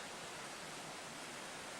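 Water in Pine Creek in Colorado's San Isabel National Forest rushes steadily past sandbags and a damaged pipeline, a constant broadband hiss and gurgle that stays even in level throughout with no voices.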